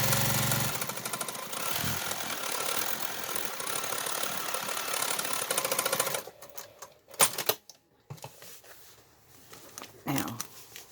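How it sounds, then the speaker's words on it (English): A sewing machine stitches a denim shopping bag made from old jeans in a steady, rapid mechanical whirr for about six seconds, followed by quieter clicks and fabric handling. "I'm going to stitch it again."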